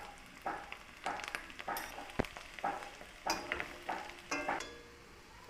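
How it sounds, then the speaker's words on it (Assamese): Spices and turmeric powder stir-fried in a pan for an Assamese chicken curry, with soft sizzling broken by rhythmic scrapes and light clinks of the spoon against the metal, fairly quiet. "এইখিনি অলপ সময় লৰাই ভাজি থাকিম"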